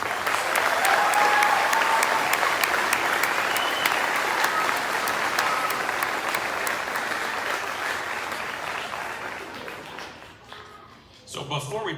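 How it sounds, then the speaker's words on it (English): Audience applause fills a middle school band concert hall, loud and sustained, slowly fading toward the end before a brief renewed burst of claps. "Please give these guys a round of applause."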